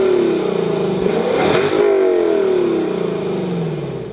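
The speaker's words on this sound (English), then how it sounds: "we show you a 5-liter V8 naturally aspirated engine with around 470 horsepower" Naturally aspirated 5-liter V8 of a 2021 Lexus LC 500 coupé revving loudly and close, climbing to a peak and then falling away in a long sweep, with no one talking.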